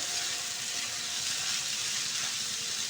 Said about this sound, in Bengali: চাল আর ডালটা আগে ভেজে নেব